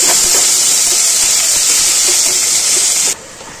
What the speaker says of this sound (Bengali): কুচানো পেঁয়াজটা দিয়ে দেবো ফোড়নের মধ্যে